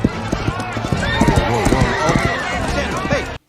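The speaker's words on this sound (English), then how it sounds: "Look out! Runaway horse!" A runaway horse from a Santa Clauses film scene gallops past, its clip-clopping hooves beating quickly and loudly over about three seconds, with other scene noise mixed in before cutting off abruptly.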